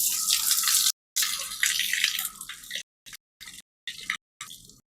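Water pours and drips through holes punched in a cup, a close splashing stream that breaks off into short intermittent bursts and dribbles, with no talking.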